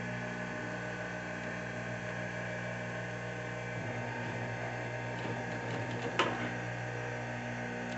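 A sewing machine runs steadily, stitching bias binding around the edge of a waterproof toiletry bag, with a constant mechanical hum and a brief louder rattle near the end; no one speaks.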